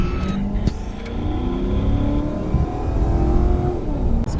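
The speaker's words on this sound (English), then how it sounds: "This car sounds nice." A Crown Victoria police car engine revs and accelerates, a loud, close, rising drone that holds steady for a few seconds with a faint thump early on.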